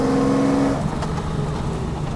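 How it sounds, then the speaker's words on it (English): Engine of a 1960s Le Mans Jaguar driving on a country road, a steady near rumble with a tone dropping as it shifts, continuous throughout. "Lots of torque from the engine"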